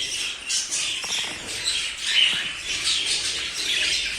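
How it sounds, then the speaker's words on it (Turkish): A crowd of budgerigars in a breeder's aviary keeps up a constant bright chatter of squawks and chirps, loud and close with no talking. "Şöyle kaliteli kuşlar var arkadaşlar."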